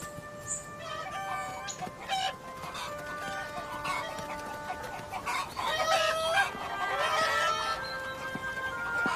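Farmyard chickens cluck continuously close by while a rooster crows repeatedly through the scene, layered over faint outdoor background noise.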